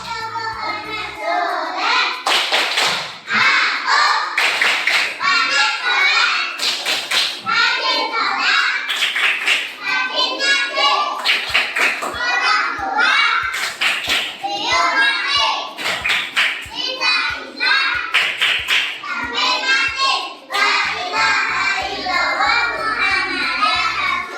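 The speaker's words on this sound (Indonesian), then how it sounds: "kita tepuk anak soleh dulu" Schoolchildren in an Indonesian Islamic religious education class clap in quick rhythmic patterns while chanting the "tepuk anak soleh" clapping chant together in Indonesian, loud and lively, with a female teacher's voice leading them.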